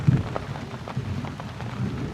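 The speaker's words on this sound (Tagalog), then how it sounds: "umuulan. Bagyo, bagyo." Steady rain patters on a surface, a dense broadband hiss with scattered drop taps throughout and no voices.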